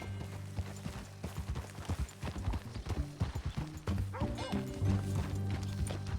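Horse hooves clip-clop in Red Dead Redemption 2, a rapid close rhythm of hoofbeats on hard ground that settles into a slower gait, with a dog barking nearby and a brief whinny.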